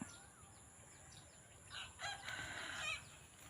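Out in a rice-field landscape after rain, a rooster crows once, far off and faint, its ragged call rising in the second half against soft background hiss and a high steady drone.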